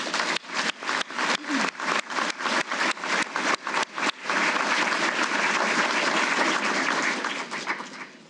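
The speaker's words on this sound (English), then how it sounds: "How about a round of applause for them?" Audience applause at a military change of responsibility ceremony, opening as rhythmic unison clapping in steady beats for about four seconds, then breaking into dense, loud, continuous applause that fades at the end.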